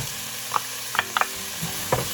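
Garlic stirred into softened cabbage frying in a pot for a diet cabbage soup, with a soft steady sizzle and a few light scraping clinks of the spoon at irregular moments, close and moderately quiet.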